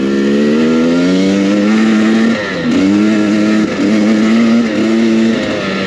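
A 2023 Husqvarna TE300i two-stroke dirt bike ridden close up, its engine buzzing loudly and steadily, dipping briefly between throttle blips and rising again in repeated surges, with no talk.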